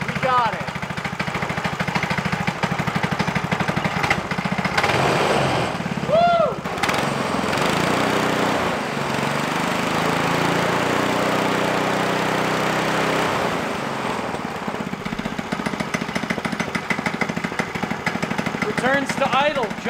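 A rebuilt Briggs & Stratton small engine runs with a steady mechanical chug, dropping to a lower idle partway through and picking back up, close by, while people talk over it.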